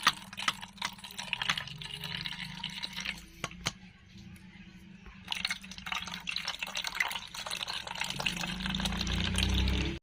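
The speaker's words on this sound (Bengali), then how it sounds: "এবার আমি এটাকে ছ্যাংনাতে দিয়ে ছেঁকে নেব" Mashed watermelon pulp is strained through a sieve, giving wet dripping and trickling sounds with irregular splashes, near and moderately loud, building toward a heavier pour at the end.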